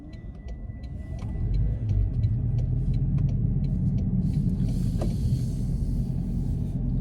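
A car passes a driver waiting at a one-way stop during a road test, a low rumble swelling after the first second and holding steady, with a steady indicator ticking throughout.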